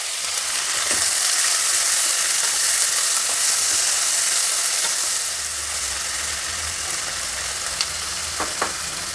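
Chopped onion and tomato sizzle and crackle in a hot pan, a loud steady frying hiss that eases partway through, with a few scattered pops and stirring clicks near the end.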